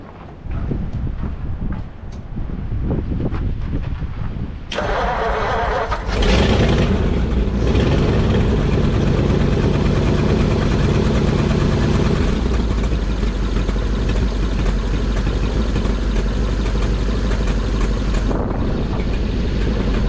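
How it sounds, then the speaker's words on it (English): The flathead V8 of a 1940 Mercury Eight, left sitting since the 1970s and with a cracked exhaust, cranks and catches, then settles into a steady, loud rumbling idle with some wind noise over the microphone. "And this old flathead sounds great."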